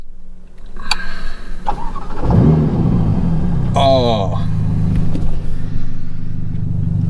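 A Ferrari Roma sports car engine cranks and fires up, then revs with a rising snarl before settling into a loud, deep idle; someone briefly speaks over it.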